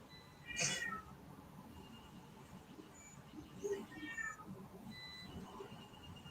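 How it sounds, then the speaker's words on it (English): A male cat in a workshop meows and complains, a loud whiny meow followed by several shorter fainter mews, over a quiet room background. "You can hear my cat."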